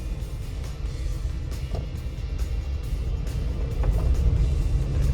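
A 2016 Jeep Wrangler Unlimited engine accelerates with a low, steady rumble that builds gradually, heard from inside the vehicle with no talking.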